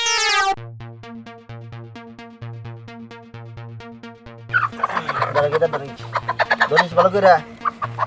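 A hen clucks and squawks in agitated bursts during the second half, near and loud, over a repeating musical loop, while people urge the chicken along with voices in the background.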